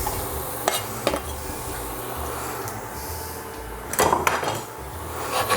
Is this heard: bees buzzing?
no